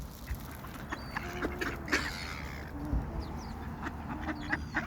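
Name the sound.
ducks quacking while being fed bread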